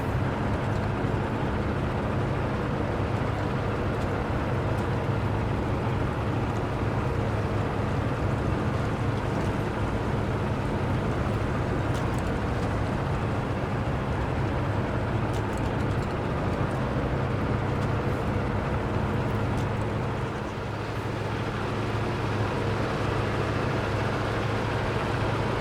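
A truck engine runs steadily in the Snowrunner video game on hard mode, a dense, continuous low drone and rumble that holds at an even level for the whole stretch with no talking over it.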